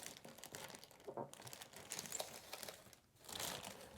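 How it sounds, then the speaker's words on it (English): Nylon protective tape being peeled off a new Bambu Lab 3D printer during unboxing, a steady crinkling, tearing rustle close by, with brief pauses between pulls and no talking. "this is like a nylon tape that I have to peel off"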